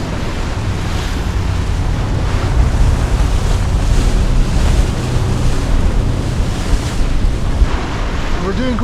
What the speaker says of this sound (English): Waves are pretty, I would say 3-4 meters on the side here.